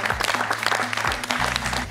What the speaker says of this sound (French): On va applaudir Mathilde qui a livré un beau match.